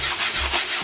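A spatula scrapes and shuffles through a pan of stir-fried bitter melon and egg with luncheon meat, Okinawan style, in a steady close rubbing sound with no talk.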